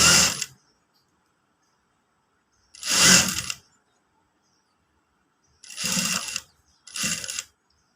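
Sewing machine stitching a Katori blouse, running in four separate short bursts with silent gaps between them, close and clear with no talking.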